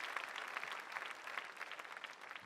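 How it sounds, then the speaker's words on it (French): A church congregation applauds together, a dense, steady patter of many hands clapping at moderate distance for a few seconds without pause. "Applaudissons ensemble pour Jésus-Christ."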